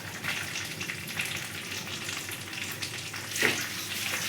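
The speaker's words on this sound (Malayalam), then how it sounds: "വറ്റൽ മുളക്" Dried red chillies fry in hot oil with mustard seeds in a clay pot, giving an even, close sizzle with scattered crackles and one brief louder spit near the end.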